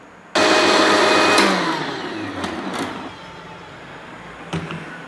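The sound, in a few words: blender blending grapes and sugar for grape juice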